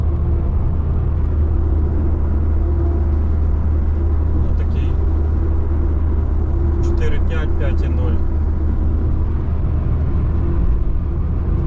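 Kia cee'd 1.6 CRDi diesel hatchback cruising on a highway at about 100 km/h, a steady loud low drone of engine and road noise throughout, with a few faint higher clicks and chirps partway through.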